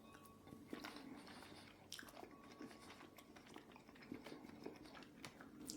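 Someone bites into a piece of fresh pineapple topped with Willoughby washed-rind cheese and its rind, giving soft, wet crunching and chewing that repeats close by through the whole stretch, with no talk.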